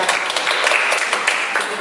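A congregation at a Saga Group fellowship church service claps together in a loud, steady burst of applause that carries through the whole moment, with no speech over it.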